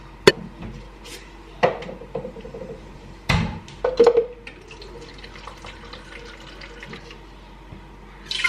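Water runs from a kitchen tap into a cup, with a steady faint trickle and a few sharp knocks and clinks of the cup and tap over several seconds, heard close and with no talk.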